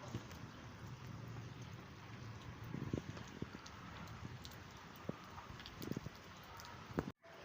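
Monsoon rain falls steadily in Taxila, a soft continuous patter with occasional louder drips and splashes close by, fairly faint throughout.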